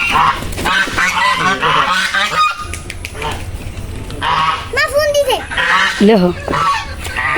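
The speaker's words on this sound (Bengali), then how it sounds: "এটার সাথে যে জোড়ার একটা ফিমেল রাজহাঁস সেটা হলো এটা" Domestic swans, a male and female pair, honk loudly and repeatedly at close range, harsh goose-like calls in irregular bursts, with a brief spoken word in between.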